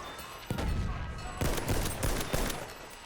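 Gunfire in the video game Battlefield 1, three or four sharp close bursts of shots a second apart, loud over a constant battle din.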